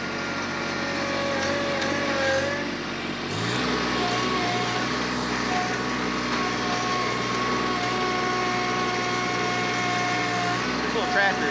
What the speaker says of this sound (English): This little tractor is stout.